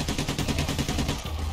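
Rapid automatic gunfire in the heist shooter game Payday, a dense, loud, evenly paced string of shots lasting the whole moment.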